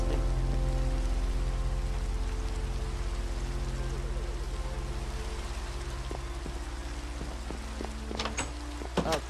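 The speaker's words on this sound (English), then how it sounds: "Oh, it's raining." Steady rain falls in the video game Minecraft, a dense, even hiss that runs the whole time alongside a low sustained tone, with a few sharp clicks near the end.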